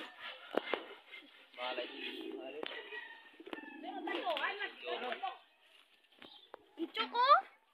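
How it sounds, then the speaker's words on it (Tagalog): Pigeons coo in short, soft bursts close by, interspersed with a person talking nearby in a quiet setting. "Ito mga kalapatids."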